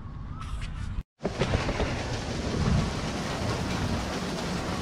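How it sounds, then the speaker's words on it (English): Steady rain falls around an anglers' boat on a fishing trip in Thailand, a dense continuous hiss at moderate level after a brief cut, with no voices. "Bit of rain."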